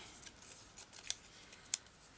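Scissors snipping paper for a craft journal: faint, quiet cutting with a couple of sharp, crisp snips standing out amid softer paper rustles, close to the mic in a quiet room with no talking.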